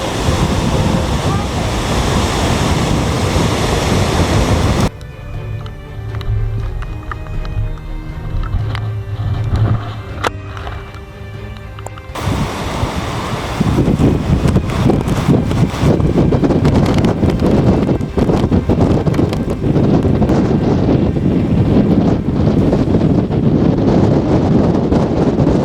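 A sudden gust near 60 miles per hour slams open countryside during a thunderstorm, a loud broadband roar battering the microphone, easing briefly before surging back even harder and sustained to the end.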